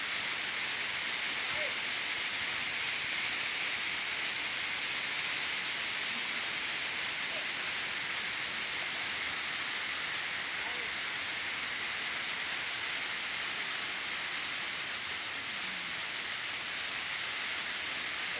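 Rain falls steadily during an April storm outdoors as a continuous, even hiss that neither builds nor fades.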